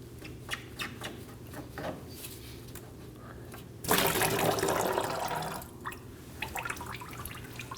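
Coolant draining from a disconnected radiator hose on a 2011–2016 Kia Optima 2.4L into a pan below, a faint steady trickle that briefly swells into a louder gushing splash before settling back to drips.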